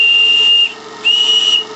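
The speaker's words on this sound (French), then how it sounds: "Mon sifflet marche toujours." Steam whistle on a live steam engine at about 1.5 bar, sounding two steady shrill blasts of roughly half a second each, separated by a short gap, close and loud over a soft background hiss.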